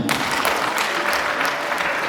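An audience at a wedding ceremony claps, a dense, loud burst of applause from many hands.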